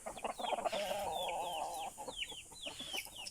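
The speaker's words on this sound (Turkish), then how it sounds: "Arkadaşlar işte bütün tavuklarımız buradalar. Şeyle beraber, horozlarla beraber." Several hens and roosters cluck and chatter together in a farmyard, a run of quick squawks and rising calls, faint and close-miked with no talk.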